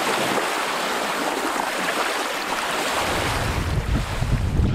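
Strong wind roars steadily past a lakeside campsite during a stormy day on a trout fishing trip, buffeting the microphone with a loud, continuous rush that swells and gusts near the end.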